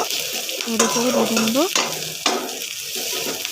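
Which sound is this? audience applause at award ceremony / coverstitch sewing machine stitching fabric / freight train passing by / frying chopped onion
frying chopped onion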